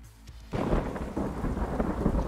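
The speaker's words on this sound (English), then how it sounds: "Oh, it's rainy." Thunderstorm with heavy rain in the Escape from Tarkov video game: a deep rumble of thunder swells in after a quiet half second, then a dense wash of rain carries on steadily, loud and enveloping, without speech.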